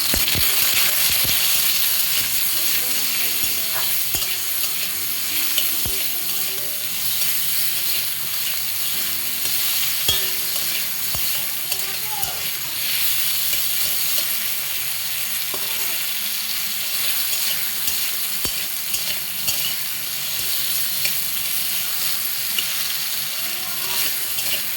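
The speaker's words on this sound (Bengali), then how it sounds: "কাঁকরোল ভাজাটা মোটামুটি হয়ে গেছে, তারপর হচ্ছে আলুটাও ভেজে নিলাম" Teasel gourd and potatoes frying in a pan, giving a steady close sizzle with light crackle and occasional stirring clicks throughout, no voices.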